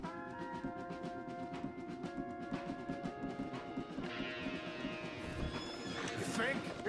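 Horses in Red Dead Redemption 2 whinny and neigh repeatedly over a steady clip-clop of hooves, with game voices talking throughout and a loud neigh near the end.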